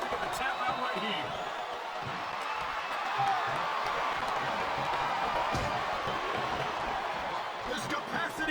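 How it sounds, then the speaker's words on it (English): A capacity arena crowd roars and cheers during a Booker T vs Batista wrestling match in WWE SmackDown vs Raw 2007, a steady wash of crowd noise under commentators' voices. "This capacity crowd is on its feet."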